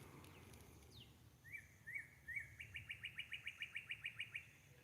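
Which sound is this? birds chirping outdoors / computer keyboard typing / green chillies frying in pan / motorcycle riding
birds chirping outdoors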